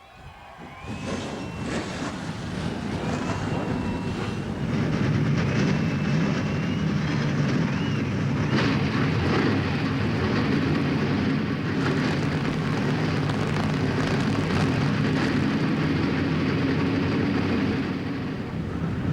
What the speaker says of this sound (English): The engines have cranked.